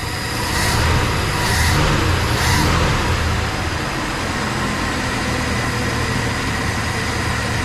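A 1967 Dodge Dart engine idles steadily on its own fuel system, a loud, close, continuous rumble with a few rhythmic surges early on before settling into an even drone.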